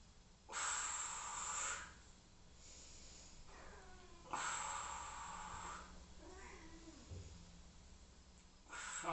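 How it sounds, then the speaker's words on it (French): A cat meows repeatedly indoors, several drawn-out cries spaced a couple of seconds apart, fairly close and clear against a quiet room. "il y a mon chat qui miaule"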